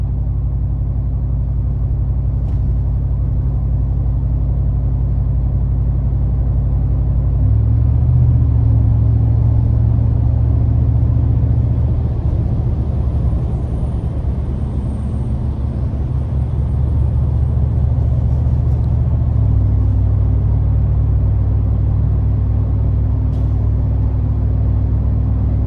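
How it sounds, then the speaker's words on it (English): Exhaust of a 2020 Saleen F-150 SportTruck XR Yellow Label pickup rated at 700 horsepower, a deep continuous drone heard from inside the cab that steps up in pitch and intensity as the throttle is pressed, with no talking. "I like the exhaust drone there, just the sound that you get, just giving it light throttle."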